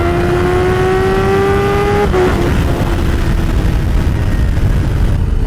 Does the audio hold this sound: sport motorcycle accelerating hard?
yes